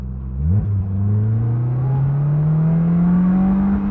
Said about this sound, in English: I'm going to accelerate until I hit 45.